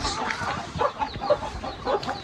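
Village chickens cluck and murmur nearby in short, repeated bursts against an outdoor farmyard background.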